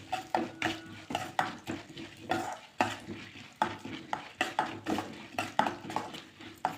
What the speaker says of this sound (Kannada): ತೊಗರಿಬೇಳೆ ಬ್ರೌನ್ ಕಲರ್ ಬರೋವರೆಗೂ ಸ್ವಲ್ಪ ರೋಸ್ಟ್ ಮಾಡಬೇಕು.